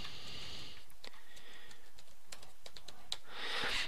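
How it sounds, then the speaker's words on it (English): Someone types on a computer keyboard: a quick run of light, close key taps in an irregular rhythm over a few seconds. "So I could type in Jenny's name."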